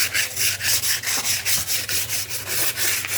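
Coarse wall sandpaper rubs back and forth over a Styrofoam vase with a rough textured finish, making rhythmic scratchy strokes at a brisk, steady pace, close up and moderately loud.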